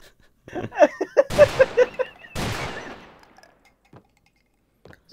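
A giant gun firing in Garry's Mod: a rapid string of sharp, loud shots followed by two heavy booming blasts, then fading to near silence with a few faint clicks.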